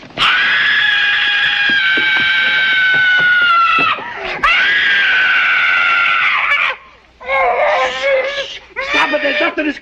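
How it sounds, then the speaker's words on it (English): A woman screams long and loud at close range, sustained high wails broken by a brief pause, then shorter sobbing, moaning cries toward the end. "There's nothing to scream about."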